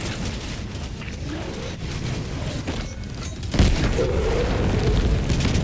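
Explosions in the video game Helldivers 2 sound over continuous battle noise, with a sharp low boom that swells midway and rumbles on under scattered distant blasts.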